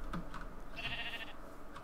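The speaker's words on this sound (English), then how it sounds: "It's another pink sheep." A sheep bleats in the Minecraft video game, a single mid-length synthetic bleat standing alone at moderate level with no talk over it.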